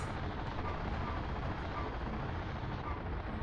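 A helicopter in the video game Steel Battalion makes a constant, even rotor-and-engine drone, fairly faint and unbroken, with no speech over it.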